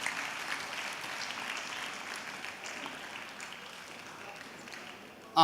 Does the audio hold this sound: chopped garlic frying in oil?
no